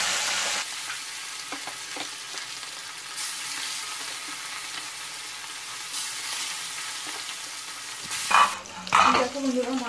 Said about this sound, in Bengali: আর এইখানে তেল গরম হয়ে গেছে, এখন মাছগুলো ভেজে নেব।